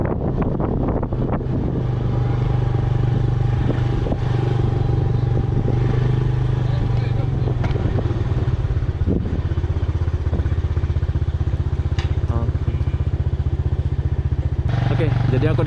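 A motorcycle rides in through a ticketed entrance to Malin Kundang beach in Padang, its steady engine drone running low and close throughout, with wind buffeting and occasional clatter while people talk over it.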